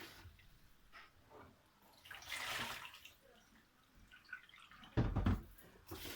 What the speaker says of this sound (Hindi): चावल को मैं अच्छी तरह खुले पानी से धो लूँगी